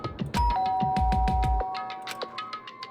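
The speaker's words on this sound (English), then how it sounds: "pressed the doorbell" A doorbell chimes with a clear electronic tone amid a series of sharp knocks or taps, fairly close and with no voices, in the video game Danganronpa: Trigger Happy Havoc.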